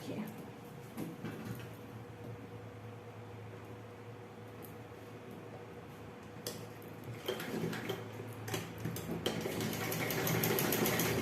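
Sewing machine stitching the pocket of palazzo pants, a steady mechanical whir that grows louder and busier toward the end, with someone speaking faintly underneath.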